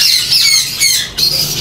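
A yellow ringneck parakeet squawks loudly and close by at a bird market. The harsh, shrill calls run almost without a break, with one short pause.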